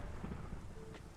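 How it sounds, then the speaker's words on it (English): Rain and thunder in the Minecraft game, a steady rainfall hiss with a low rumbling roll of thunder running through the short stretch, heard alone with no voices. "It's always raining on this server."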